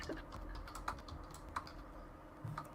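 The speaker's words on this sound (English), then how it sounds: "Oh, he's like mad typing." Rapid, close clicking on a computer keyboard, an uneven flurry of keystrokes with a few sharper taps standing out, fairly quiet and with no talking.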